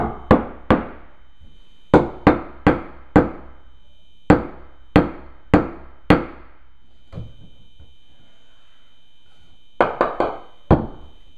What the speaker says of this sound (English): Let me see if I can find a hammer.